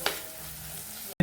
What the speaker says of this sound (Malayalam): ഇനി നമുക്ക് ഫ്ലെയിം കുറച്ച് വെച്ച് നന്നായിട്ട് വഴട്ടിയെടുക്കാം.